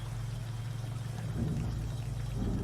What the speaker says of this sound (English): And now there's a never-ending waterfall there.